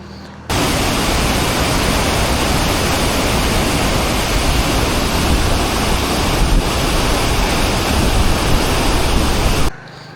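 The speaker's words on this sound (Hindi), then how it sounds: "दरियाए रावी का ही पानी है जो इसके ऊपर से गुज़र रहा है" Water of the Ravi river pouring over the headworks at Head Sidhnai makes a loud, dense, steady roar like a waterfall, close and unbroken for most of the clip, with no speech.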